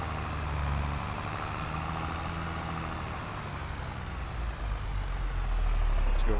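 A truck in a farm roleplay game idles and rumbles, low and steady, as it dumps its load between tires, the engine swelling louder toward the end with no talk.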